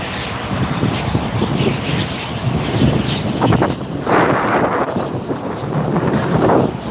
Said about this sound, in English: So it might be a small business jet or a private plane.